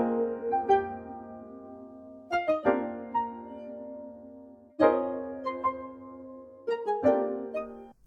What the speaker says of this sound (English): But if sped up, the Champion's Shrines theme sounds like this